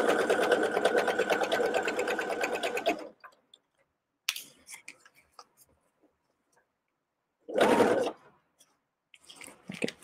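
A sewing machine stitches fabric for a fanny pack in a steady, rapid run for about three seconds, then falls quiet apart from a few short bursts of handling and fabric noise, followed by another brief stitching burst near the end.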